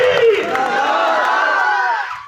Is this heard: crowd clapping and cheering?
yes